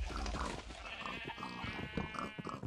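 Sheep in the Minecraft video game bleat in a quavering, wavering cry lasting a couple of seconds, clear and close over a busy background of game noise.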